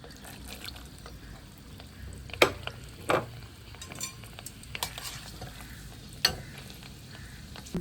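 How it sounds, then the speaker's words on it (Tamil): Quiet, steady sizzling of chana dal frying in hot oil, added a little at a time, with occasional sharp clinks of a utensil against the pan. "கடலைப்பருப்பு கொஞ்சம் கொஞ்சமாக போட்டு பொரிக்கணும்."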